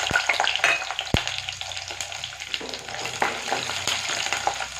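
Large garlic cloves frying in a pan give a dense, crackling sizzle throughout, broken by sharp spoon clicks and scrapes, close and loud with no voices.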